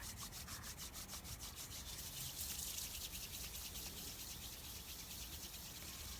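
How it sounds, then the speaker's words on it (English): Palms rubbing briskly together to build warmth during a guided relaxation exercise, a steady close dry swishing friction that keeps up evenly with no talk. "rub your hands together to create heat"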